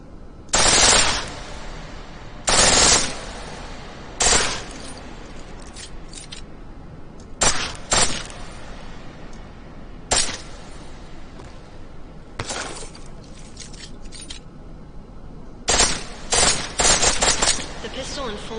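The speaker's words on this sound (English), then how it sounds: "The pistol in full auto will take down targets fast, but it'll burn through your ammo." Full-auto pistol fire in Deus Ex rings out in about eight sharp, loud bursts of rapid shots, each lasting roughly half a second, spaced a few seconds apart over a low background hum.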